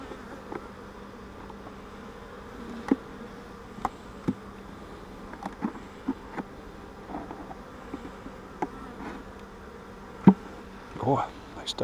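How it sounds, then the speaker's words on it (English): Honey bees buzz with a low, continuous drone inside a mating nuc. The sound is close but fairly soft, and scattered knocks and clicks from handling the hive break through it. "I don't know if there's many bees in there, but I can hear them."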